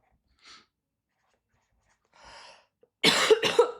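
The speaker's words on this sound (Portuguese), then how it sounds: "tô tossindo muito" A person coughs, starting with two faint, short breathy sounds and finishing with two sharp, loud coughs close to the mic, all against near silence.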